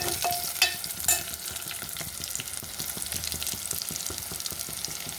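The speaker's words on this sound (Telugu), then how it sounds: "ఇప్పుడు ఎండుమిర్చి వేసేద్దాం" Dried red chillies hit hot oil with onions, green chillies and mustard seeds, giving a faint, steady sizzle with a few brief spatters and stirring scrapes near the start.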